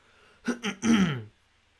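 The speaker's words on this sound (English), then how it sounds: "let me clear my throat again" A single close throat clearing, two short rasps followed by a longer gravelly one, in a quiet room.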